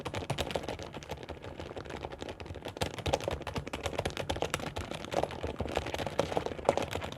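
Fast, steady typing on an Aula mechanical keyboard fitted with Peach switches, dense soft clacks close up with no talking.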